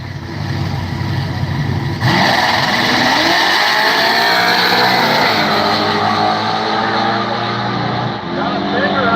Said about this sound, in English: The Mustang versus Camaro battle.